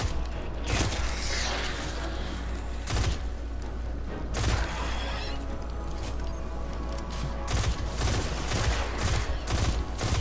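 Short bursts of gunfire from a weapon in the shooter game Destiny 2, loud repeated cracks in clusters over a steady mechanical game background, with no voices.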